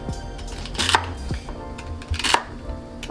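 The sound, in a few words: chopping celery stalks with a knife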